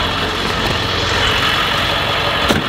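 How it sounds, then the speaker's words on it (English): A 7.3L diesel engine with stage 2 injectors idling steadily, a loud, close, even rumble with no talk over it. "This thing sounds absolutely incredible. She's idling so good, so strong."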